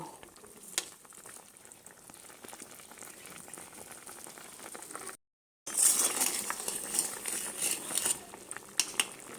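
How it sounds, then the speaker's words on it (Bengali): Mango pieces are stirred in a pan with mustard and green chillies while the cooking sizzles and bubbles. The scraping and clinking run continuously, with a brief gap midway, after which the sound comes back louder. "এই সর্ষে আর কাঁচা লঙ্কাটা দিয়ে একটুখানি নেড়ে নামিয়ে নেব"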